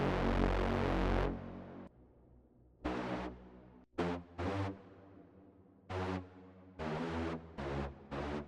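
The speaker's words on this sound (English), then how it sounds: "Now we need a deep droning sound like this." Deep droning synth sound built in FL Studio for hard industrial techno, playing as loud chopped bursts with decaying tails between them, in an uneven pumping pattern without any voice.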